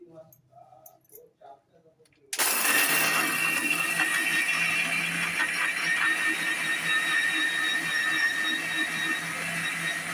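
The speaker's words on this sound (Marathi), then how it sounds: "हे आता सगळं मी एकत्र मिक्सरच्या भांड्यात काढलं हे आता मी मिक्सरला लावते" A mixer grinder whirs loudly and steadily while blending a coarse chutney masala for batata vada. Someone talks briefly before the motor starts abruptly, and it then runs nearly unchanged to the end.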